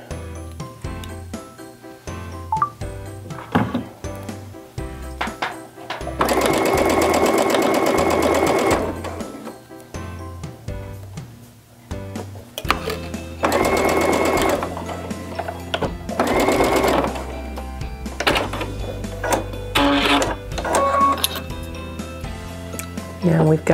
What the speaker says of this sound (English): Now we've got it sewed all the way around.